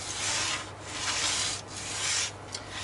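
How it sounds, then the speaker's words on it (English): Steady rasping of sandpaper rubbed back and forth over a wooden piece for a Tanglewood WildKat guitar, in several long strokes with brief pauses, close and fairly loud. "The ones I'm now sanding down now"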